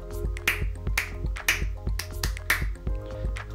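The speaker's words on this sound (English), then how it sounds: "And clap pattern 2." Recorded clap pattern sound effect from a children's coding lesson on conductive clappers: sharp snapping claps in an irregular rhythm, about a dozen hits over a steady tonal backing, loud and close with no talking.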